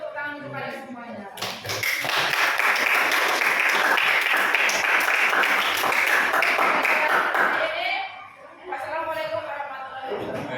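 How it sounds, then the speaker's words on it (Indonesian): Students in a classroom give a burst of applause that lasts several seconds, loud and dense, with voices heard before and after the clapping. "tepuk tangan untuk kalian semuanya"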